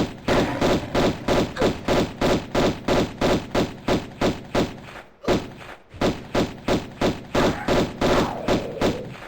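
Rapid gunfire in Tomb Raider 1 Remastered, dozens of punchy, thudding shots in a steady quick rhythm with a brief pause midway, loud and close throughout.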